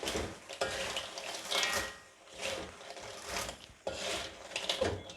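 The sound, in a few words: stirring chips in a wok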